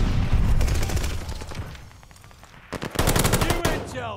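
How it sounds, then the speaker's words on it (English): Rapid bursts of light machine gun fire in the World War II shooter Call of Duty: Vanguard, loud and close, with a lull in the middle before a fresh sustained volley. "That's that dude with the light machine gun, ain't it?"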